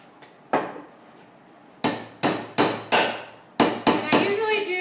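A hammer drives nails into wooden beekeeping frames braced on a hammer box, with roughly eight crisp, close wooden impacts in uneven bursts, some strikes coming in quick pairs, separated by quiet gaps.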